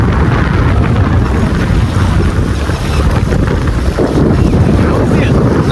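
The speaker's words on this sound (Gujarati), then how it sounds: "પવન એટલો જોરદાર છે જો." Strong wind buffets the microphone beside a dam reservoir, a loud continuous roar that masks the water waves lapping underneath.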